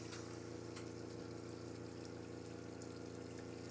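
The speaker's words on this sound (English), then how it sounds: "So we're just going to fill this with water." Steady rush of running water filling a pot, a continuous even hiss with a low mechanical hum underneath, no talking.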